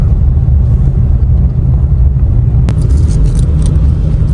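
Steady low rumble of road traffic from inside a moving car in Ortigas, with a brief sharp click and faint rattles partway through.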